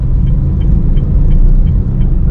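A car engine hums as the car slows on a public road to enter a roundabout: a loud, steady low rumble heard from inside the cabin, with no talking.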